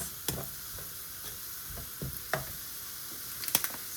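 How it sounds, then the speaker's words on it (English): A spoon scrapes and taps a few times in a frying pan as lamb mince and spices are stirred, giving soft, irregular clicks over a quiet, low sizzle. "I'm just gonna stir just a couple of times"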